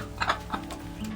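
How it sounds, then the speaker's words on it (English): A baby chick kept in a cage with poultry peeps a few times in short, high, quick calls over a steady low background hum, close by and with no voices. "There he is! Here's the little chickie!"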